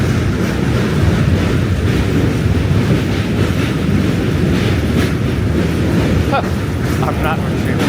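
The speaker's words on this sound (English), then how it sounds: "The train's swinging again." Subway train rolling along the rails beneath Manhattan, a steady broadband rumble with wheel noise throughout and a brief metallic squeal near the end, close and loud with faint voices in the background.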